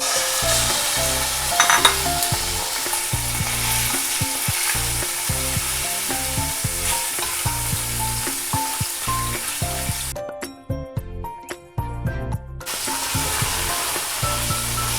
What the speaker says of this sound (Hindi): हाई फ्लेम पे भूनते हुए इसको मुझे हो गया तकरीबन 4 से 5 मिनट।